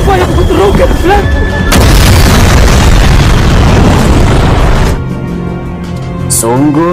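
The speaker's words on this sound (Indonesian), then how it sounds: "tiba-tiba saja terjadi ledakan" A sudden explosion in a laboratory during a film scene, a loud broadband blast and roar that fills the first five seconds, mixed with a music score and background voices.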